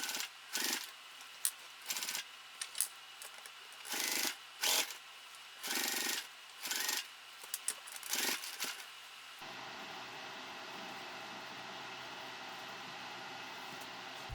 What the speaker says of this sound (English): And then I'm top stitching on the binding.